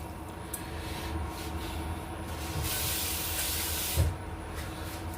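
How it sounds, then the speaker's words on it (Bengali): Water is poured into a pan of mutton cooking with ground spices, a loud sustained hissing splash that swells in the middle and ends with a brief clank. "এবার একটু পানিও দিয়ে দিই আমরা পানিও অ্যাড করে দিচ্ছি"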